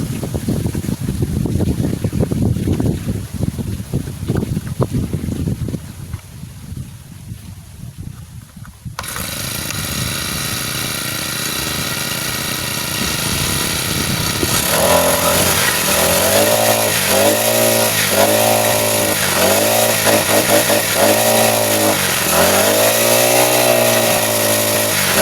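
Gasoline grass cutter engine, first irregular pulling and sputtering attempts, then catching and running with a steady buzzing drone that rises and dips in repeated revs, loud and close.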